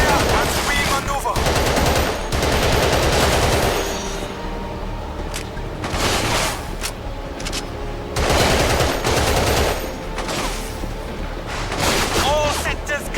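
Heavy automatic gunfire in the Battlefield 2: Modern Combat video game, loud sustained bursts of machine-gun fire and shots that pause briefly and resume, close and dense throughout.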